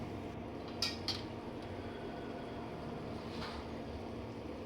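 A spoon stirs prawn masala in a cooking pan, giving two quick metallic clinks close together and a later soft scrape over a faint, steady kitchen background.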